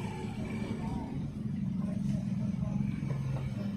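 Rush-hour road traffic outside a school at dismissal time, with a steady, fairly loud rumble of car and truck engines idling and creeping nearby, plus faint background voices.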